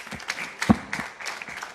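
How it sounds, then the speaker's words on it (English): Brief, scattered applause at a Nigerian medical association award ceremony dinner, a handful of separate claps rising and fading within a couple of seconds. "A round of applause for her."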